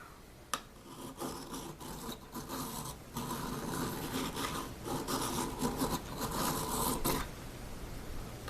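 Sandpaper rubbing back and forth over the wooden fretboard of an old Kraftsman mandolin during restoration, a close, steady raspy scrubbing in repeated strokes with a brief sharp knock near the start.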